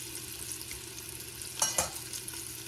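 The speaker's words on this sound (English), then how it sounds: "I want to get it browned on all sides." Flour-dusted lamb shanks brown in a hot frying pan, giving a steady close sizzle with a brief louder clatter as the meat is moved.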